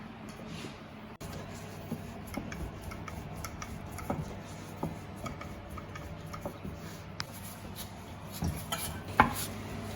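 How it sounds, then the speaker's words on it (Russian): Steady knife taps on a board, quick and regular, chopping rolled-out thin noodle dough for beshbarmak in a quiet kitchen. "Для бешбармака нужно его нарезать руликами."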